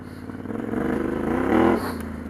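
A Yamaha T7 adventure motorcycle rides over rough off-road terrain, the engine thrumming steadily up close, swelling as it revs harder and then settling back.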